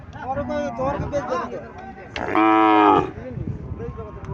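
A Haryana dairy cow lets out a single loud moo lasting under a second, with people talking before and after it.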